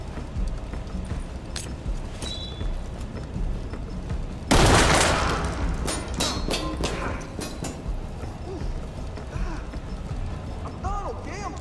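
Gunfire rings out in a video game, with a sudden loud burst midway followed by several sharp, scattered shots over steady background noise.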